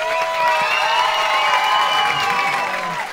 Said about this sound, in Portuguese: Uma salva de palmas, Patrick Maia,